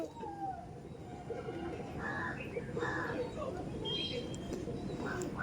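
Chotiyal pigeons in a loft giving soft low coos amid a busy, rustling background with faint distant chatter and a few higher bird calls.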